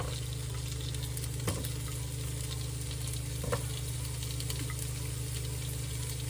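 Carrot pieces stir-frying in a pan of stir-fry vegetables give a steady, close sizzle, with a couple of brief scraping stirs standing out along the way.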